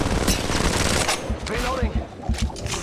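Dense automatic gunfire from the Apex Legends Mobile video game: rapid, loud, close bursts that hardly pause over a busy game mix, with a voice partly audible underneath.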